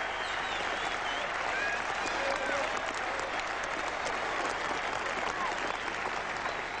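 A packed Saturday crowd at a 1981 England versus Australia Test cricket match applauds Ian Botham, a dense, continuous roar of clapping with faint cheers mixed in, steady throughout.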